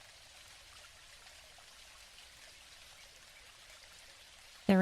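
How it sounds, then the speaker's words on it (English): Steady soft rain in the video game Dinkum, a faint even hiss of falling water with no talk, ending in a short sharp burst of a brighter sound. "The rain sounds are so peaceful."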